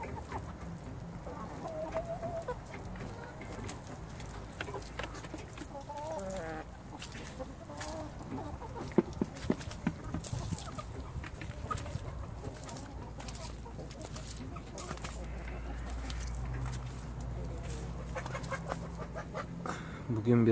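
A flock of backyard chickens clucks steadily while being given feed, a busy, close chorus of soft clucks and rustling with occasional louder calls running throughout, with no speech.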